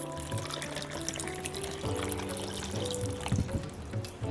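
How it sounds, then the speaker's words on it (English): Water pours steadily into a blender holding sliced pineapple and ginger, a continuous close trickling splash that stays moderately loud throughout with no talking. "I'm going to pour my water to about half."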